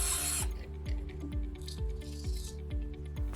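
A screw being driven through the petal-cut end of a plastic bottle into a board, heard as a steady series of ratcheting mechanical clicks at a regular pace, close and moderately quiet, with a brief hiss at the start.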